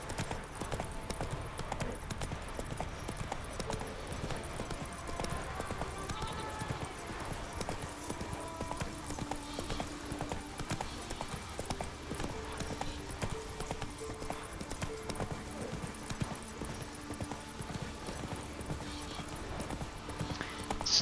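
Horse hooves clip-clop steadily and continuously while riding over rough terrain in The Witcher 3, with game music and ambient sound underneath throughout.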